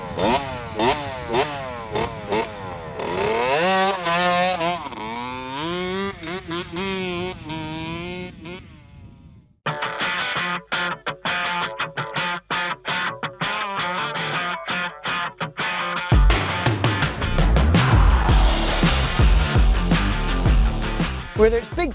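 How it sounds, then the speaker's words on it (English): A Kawasaki KX60 two-stroke mini motocross bike revs loudly with rising and falling harmonic engine tones, then a stretch of dense rattling roar and a burst of heavier, rougher engine noise near the end. "I'm going to ride a KX60 for the first ever time in my life."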